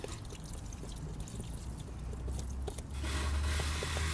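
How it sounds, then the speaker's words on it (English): Water from a garden hose rinses a filter, a steady broadband spray and splash that runs throughout and swells louder over the final second. "just grab a water hose and hose it down"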